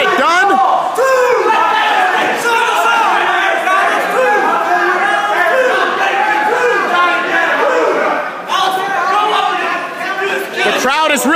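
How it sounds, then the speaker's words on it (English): Loud, continuous crowd roar and cheering from an arena audience at a tag-team wrestling match, sustained throughout with surges and shouts layered over a dense wash of voices. "The crowd is really enjoying this contest"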